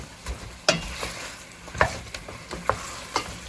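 Sizzling and spattering from a hot pot of Jamaican oxtail, broken by several sharp clinks and splashes as boiling water is poured in and stirred.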